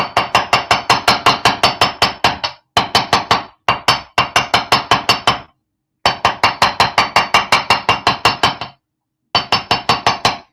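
Steel hammer striking metal at a jewelry workbench, rapid loud ringing taps in long bursts with short pauses between runs, no voices.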